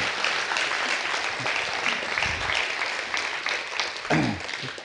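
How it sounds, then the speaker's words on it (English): A church congregation breaks into applause after a sermon, many hands clapping in a full, sustained burst that stays fairly strong, with a few voices rising briefly over it. "Give the Lord a hand clap offering if you would."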